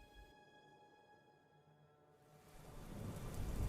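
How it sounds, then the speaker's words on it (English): Steady rain pelts against window glass, a soft near hiss that swells into a louder, fuller downpour partway through, with no voices. "Jida awoke to the gentle sound of rain pelting against glass"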